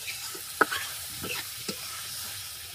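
A curry made with satkora bubbles and sizzles softly in a pan while a spatula gives a few distinct scraping strokes, close by, with no talk.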